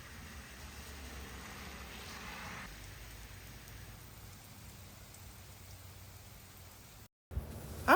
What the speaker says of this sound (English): Oh my gosh, it's already drizzling.